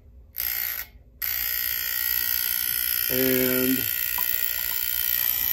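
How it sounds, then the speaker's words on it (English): A Jaguar XJS V-12 fuel injector pulses on a test setup during cleaning: a steady spraying hiss with a short, rapid mechanical buzz of ticks partway through. Someone speaks briefly. "And we get this thing pulsing."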